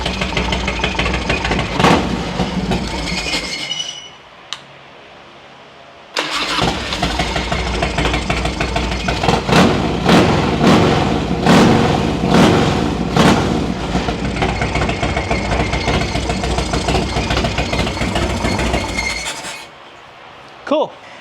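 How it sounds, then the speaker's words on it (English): A Harley-Davidson FXR-style motorcycle engine, a Kenny Boyce rendition, is running loud and close, cutting out briefly, then restarting and idling with uneven revs and pops before shutting off near the end. "Voila, we got a running bike."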